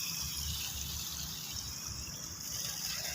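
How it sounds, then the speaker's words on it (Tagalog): Water rushes steadily down into a pump's holding tank at a construction site, making a continuous close hiss with a low rumble underneath and no voices. "Yan mga kabiyanan, na pumupunta na po yung tubig doon sa baba."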